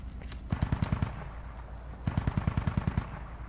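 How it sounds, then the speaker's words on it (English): Heavy automatic gunfire in the military shooter game Squad comes in two rapid bursts of about eight close, loud shots each, separated by a short pause. "We got a lot of heavy fire on Squad Bravo."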